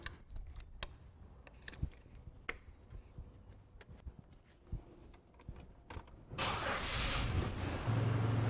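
A car engine turns over and catches after a cooling system flush and radiator refill, then settles into a steady loud running hum after several scattered clicks and taps.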